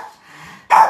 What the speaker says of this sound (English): That's my dog going crazy because somebody's at the door.